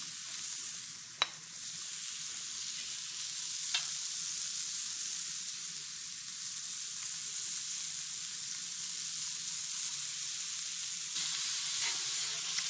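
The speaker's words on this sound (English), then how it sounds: "don't be shy about letting this meat brown" Meat browns in a hot cast iron pan, giving a steady, close hiss of sizzling fat that runs the whole time, broken by a couple of sharp clinks from utensils.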